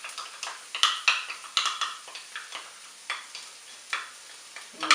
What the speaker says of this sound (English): You should hear that nice sizzle.